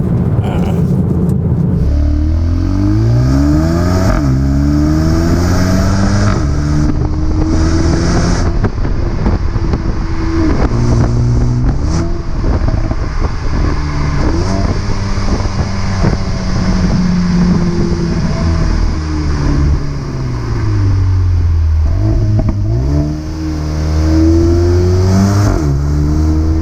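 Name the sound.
Mercedes-AMG A35 car engine while driving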